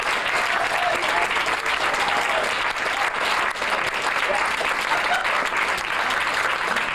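A nightclub audience gives a steady, dense round of applause for a singer, loud and continuous throughout with no break.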